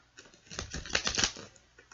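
A deck of tarot cards is shuffled in a quick riffle, a burst of rapid close papery clicks that builds and fades over about a second, with no voices.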